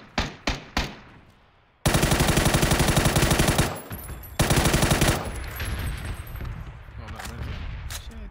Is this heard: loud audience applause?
no